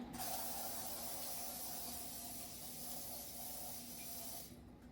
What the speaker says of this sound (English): I'll go ahead and spray this, and just to give it that extra protection so it won't stick